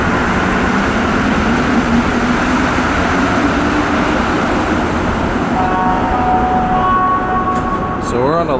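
A Montreal STM Green Line metro train running toward Honoré Beaugrand gives a loud, continuous rumble and roar throughout, with a brief rising whine near the end.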